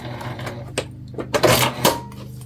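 A sewing machine runs a short back stitch, several brief bursts of motor whir and needle clatter close by, separated by small pauses.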